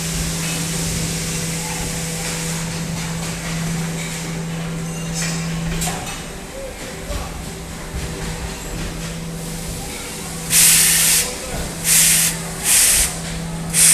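Hissing bursts from the auto-spray on an aluminium die-casting machine, several short sharp sprays at the end over a steady mechanical hum and factory drone.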